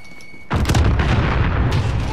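A grenade goes off in a first-person shooter with a sudden loud, close boom and a rumbling, crackling tail that carries on for over a second, rising briefly again near the end.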